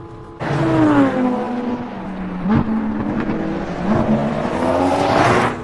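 A Lamborghini race car with a 5.2 litre V10 engine roars loud and close for several seconds, its engine note rising and dipping through gear changes, with no voices over it.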